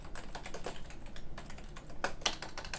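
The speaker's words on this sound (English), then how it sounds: "all we're going to do is start typing here" Rapid typing on a computer keyboard, a steady run of close, crisp key clicks with a couple of louder strikes near the end, no voices.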